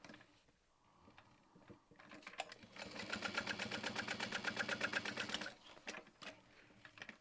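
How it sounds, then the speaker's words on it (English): A sewing machine stitches the base onto a handbag at a 3/8 inch seam allowance, running in a steady fast rapid-fire burst for about two and a half seconds, close and loud, with quieter handling noise before and after. "we're going to sew the base on at 3/8 of an inch"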